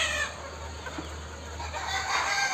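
Chickens and roosters in a large poultry farm batch cluck and call continuously, a dense flock murmur over a steady low hum with no single bird standing out.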